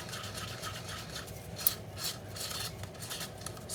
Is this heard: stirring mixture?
yes